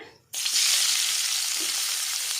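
Chopped onion hitting hot oil for an Udupi-Mangalorean chicken curry, with a sudden loud sizzle that starts after a brief quiet moment and then holds as a steady, close hiss.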